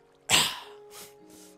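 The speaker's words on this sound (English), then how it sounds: "I'm trying to cough like as coolly as possible" A person coughs once sharply and close up, followed by two softer breathy coughs trailing off, with a faint steady hum behind.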